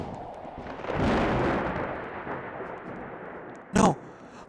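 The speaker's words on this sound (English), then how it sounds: "Lightning hits right next to me and I go flying." A lightning strike lands close by in the Roblox game: a heavy rumbling boom swells and slowly fades, followed by a sharp crackling burst near the end.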